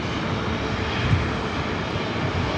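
Jet engines of a Condor airliner at LAX airport, heard as a steady, fairly loud broadband roar that holds even for the whole stretch without talk over it.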